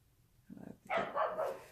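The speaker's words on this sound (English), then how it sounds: "I hear him barking" A dog barks several times in a quick burst, somewhat distant and muffled indoors, with a low grumble just before.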